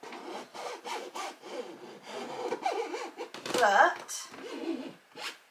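Low-tack transfer tape is pressed and smoothed onto a balloon, producing a noisy rubbing, crinkling scrape close to the mic, with a person talking over it.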